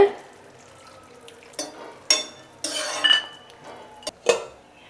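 A spoon scrapes and clinks against a pan while salt is stirred into a masala, in a few irregular bursts of metallic knocks and scraping over quiet background.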